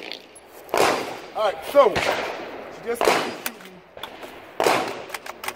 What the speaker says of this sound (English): shooting the Mossberg 715P